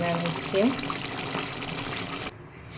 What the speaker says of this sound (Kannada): ನಾನು ಈಗ 4 ಲೋಟ ನೀರು ಹಾಕಿದ್ದೀನಿ